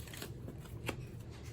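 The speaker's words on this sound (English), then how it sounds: "We're going to do a sloppy shuffle" A deck of tarot cards gets a loose, sloppy shuffle, giving a steady close papery rustle with a sharper slap of cards near the middle, no voice.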